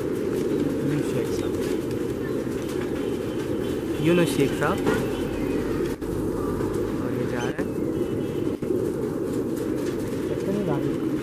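Racing pigeons belonging to a fancier cooing close by over steady broadband noise, with a few short coos standing out and someone speaking briefly.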